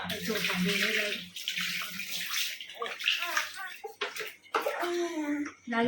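Water splashes and pours steadily during a child's bath while the child and an adult talk over it, close by, with the flow continuing throughout.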